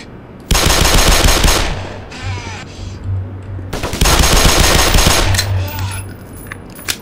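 Rapid automatic gunfire from the PC shooter game Black Mesa, two loud sustained bursts of rattling shots separated by a brief lull, with some quieter game sounds between.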